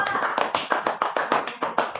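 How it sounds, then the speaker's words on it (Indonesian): A class gives rhythmic unison clapping for a student group, about a dozen sharp claps in a steady pattern, fairly close. "Tepuk tangan untuk kelompok"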